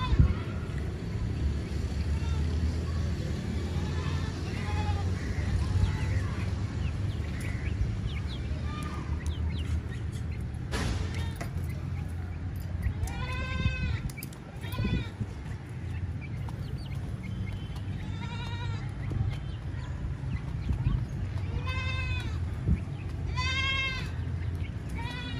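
Goats, including an older one and young kids, bleat at evening feeding and milking time in a backyard home zoo, with several clear, wavering cries rising over steady background noise while someone talks throughout.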